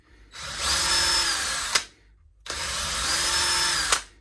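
A power drill widens 4 mm holes in the body of a Squier MIK Stratocaster, two loud whirring bursts of about a second and a half each, each ending in a sharp spike as the bit breaks through, with a short pause between.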